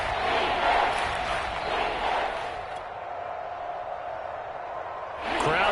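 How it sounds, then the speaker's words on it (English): A football stadium crowd at a Ravens game roars with cheering in the first quarter, a broad sustained wash of noise that dips in the middle and swells again near the end. "Crowd getting in it a bit already."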